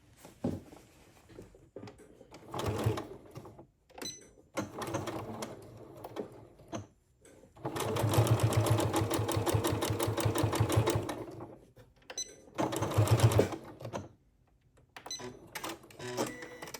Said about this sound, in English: you take it over to the machine, and with those two marks matched up on each side, you're going to sew a straight line down to the buckram